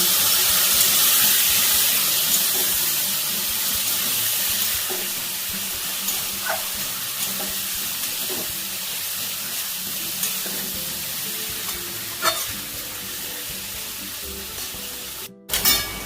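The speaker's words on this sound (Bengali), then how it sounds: "সামান্য একটু জল দিলাম মশলাটা কষার জন্য।" Spice masala of cumin and coriander powder sizzles steadily in a pan after a splash of water, a continuous frying hiss with occasional clicks of stirring and a brief pause near the end.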